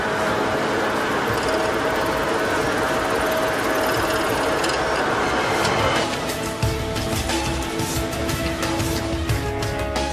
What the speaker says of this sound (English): Finally, he tightens the end of the wire to stop it from uncoiling.